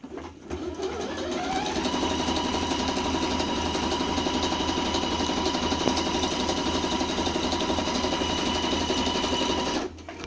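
A tabletop sewing machine stitches a zigzag seam, its motor spinning up quickly into a steady, rapid mechanical whir with fast needle chatter, then stopping abruptly after about nine seconds.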